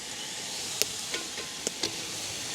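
Pittu kothu with crushed dried chillies sizzles in a hot pan, a steady soft hiss broken by a few sharp clicks of a utensil stirring and scraping, close and alone without talk.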